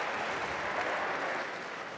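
A crowd at a squash match, with French supporters among them, cheers and applauds after Camille Serme wins a game against Nouran Gohar at the 2020 Tournament of Champions. The noise is a steady, dense wash of clapping and cheering with no gaps.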